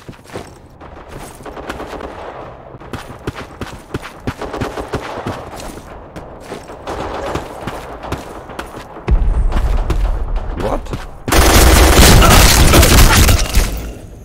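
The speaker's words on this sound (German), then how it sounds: "Wo hat denn jetzt auf mich geschossen?" Gunfire in the online shooter Black Squad on the Hamlet map during a team deathmatch: rapid, crackling bursts of distant and mid-range shots throughout, then loud, dense, close automatic fire in the final seconds.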